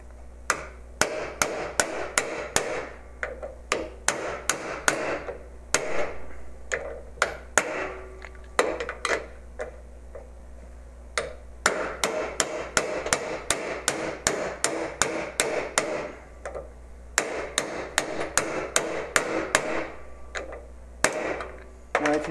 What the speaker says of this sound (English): So now I'm going to continue now doing, knocking out the part that was in before.